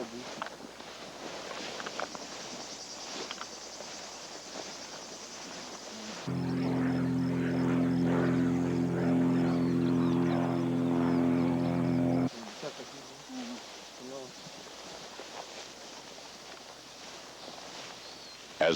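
A light aircraft drones steadily overhead above the Serengeti, its loud, even engine hum rising abruptly for several seconds in the middle, with quieter outdoor sound and some talk before and after.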